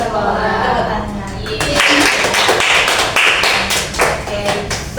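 A classroom of students claps hands together, a dense burst of bright overlapping claps that swells and carries on for several seconds with some voices mixed in.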